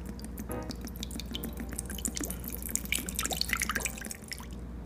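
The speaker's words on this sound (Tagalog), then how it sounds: "Sa isang bowl po, ilagay na po natin yung ating ordinaryong suka." Ordinary vinegar poured into a bowl to wash tanigue fish for kilawin, a steady liquid trickle with dripping splashes running throughout, close and moderately loud, with no talking.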